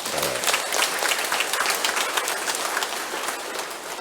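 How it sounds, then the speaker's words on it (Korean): A church congregation at Sunday Mass in Cheongna Catholic Church breaks into dense, sustained applause, a continuous wash of many hands clapping that fills the room evenly for several seconds. "우리 박수 한번 쳐야 되겠죠?"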